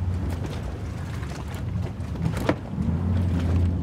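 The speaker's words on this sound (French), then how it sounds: "Alors démarre le moteur." A low outboard boat motor rumbles under wind buffeting near mangroves in Cayenne, French Guiana, with a sharp knock midway before the engine note swells steadily louder toward the end.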